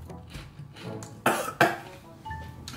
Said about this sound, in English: Why did it make me cough?